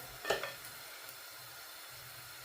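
Pineapple pieces dropped into a pan of sizzling onion and garlic for a Sri Lankan pineapple curry: a sharp clatter at the start, a low steady sizzle, then another brief clatter at the end.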